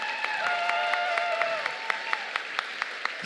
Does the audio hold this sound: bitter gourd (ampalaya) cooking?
no